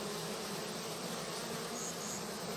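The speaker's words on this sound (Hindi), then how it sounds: "कुछ मधुमक्खियाँ अंदर होती हैं जो फैनिंग करती रहती हैं लगातार" Dense, continuous buzz of honeybees gathered at a hive entrance in summer, fanning their wings to cool the hive, a close, loud, unbroken drone with no voices.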